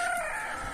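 Chickens on a farm paddock, a brief bright crowing or clucking call standing out clearly at close range, with no talk.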